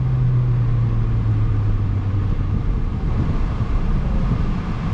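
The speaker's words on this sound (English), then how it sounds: "It likes to rev high. Hondas are made to rev high, man." A Honda truck engine revs high, giving a loud, steady rumbling drone with a sustained low tone that fades partway through, continuous and close, with no voices.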